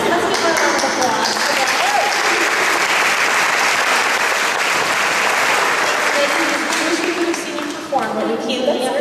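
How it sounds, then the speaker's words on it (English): A pageant audience in Clinton County gives a contestant a long, loud round of applause, dense steady clapping filling the room for several seconds before easing slightly near the end. "Let's give her a round of applause."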